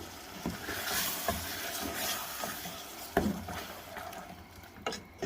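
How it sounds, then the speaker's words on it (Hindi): Tomatoes being stirred into mutton liver in a pan, with soft scraping and clinks of a utensil against the pan over a faint sizzle, and a few sharper knocks punctuating the quiet stirring. "टमाटर ऐड करने के बाद मिक्स करके हम इसको"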